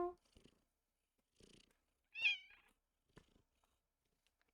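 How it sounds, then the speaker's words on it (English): A small cat gives a few short, quiet meows spaced apart with soft purring between, close by in a calm indoor setting. "I hear the little meows"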